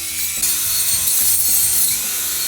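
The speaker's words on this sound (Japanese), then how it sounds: "コードのついている草刈り機のパワーはすごい。" A corded electric grass cutter runs continuously at full power, a loud, harsh whirring and rattling drone from close by, with no voices.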